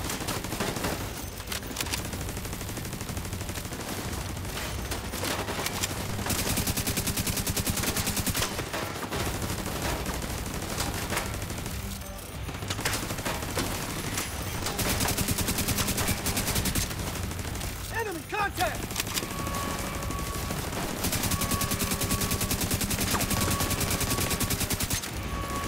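Sustained automatic turret gunfire in a video game, a dense, continuous loud rattle with steady mechanical rhythm that barely pauses across the whole stretch, layered over game sound with no talking.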